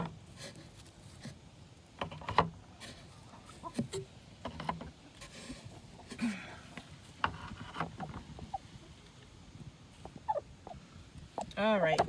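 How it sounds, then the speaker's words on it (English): Broody hens cluck and grumble in short, irregular bursts while eggs are collected from the nest, fairly quiet and close, with people talking softly in between. "She's gonna be very vocal."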